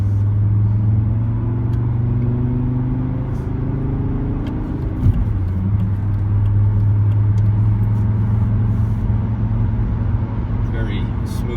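Steady low engine hum of a 1997 Mercedes E290 turbodiesel with a five-speed cruising at about 110 km/h, with a voice talking over it throughout.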